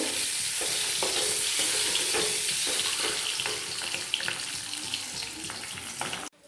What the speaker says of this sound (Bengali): এবার ডিমগুলোটাকে আমি ভেজে নেব কড়ার মধ্যে দিয়ে।